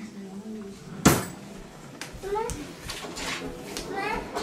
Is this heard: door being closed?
yes